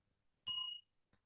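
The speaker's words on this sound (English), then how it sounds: "Bell sound wide resounds throughout 100 million worlds" A single bell struck during Buddhist sutra chanting gives one clear, bright ring that rings briefly and fades quickly, quiet and alone, followed by a faint tap.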